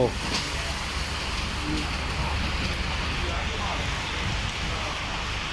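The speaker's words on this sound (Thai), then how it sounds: "ก็คงต้องวิ่งกลับแบบฝนตกไม่ต้องกลัว เพราะว่าเราอยู่ในรถยนต์" Rain drums steadily on a moving car, a dense broadband hiss with a low rumble of the vehicle underneath, constant and close throughout.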